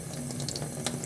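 Water runs steadily from a tap into a sink, a continuous close splashing hiss with small bursts and no talking.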